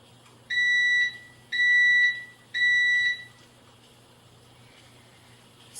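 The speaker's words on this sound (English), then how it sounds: "you'll hear the machine beep to indicate that it's done cooking" Gourmet BT900XL5 automatic electric pressure cooker signalling that cooking is done: three evenly spaced, loud, bright electronic beeps, each lasting about half a second, then quiet hum.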